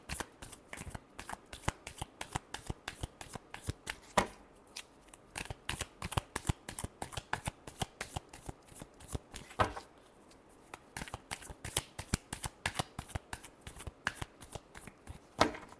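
Tarot cards riffle-shuffled by hand through a fortune reading, a rapid string of crisp flicking snaps in bursts with brief pauses between, close and clear with no talking.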